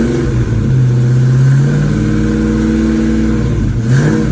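A 1983 Ford Mustang with a freshly swapped EFI engine runs roughly, revving up and settling back, its steady mid-pitched drone rising in an opening rev and dipping briefly near the end, loud and close with no talking.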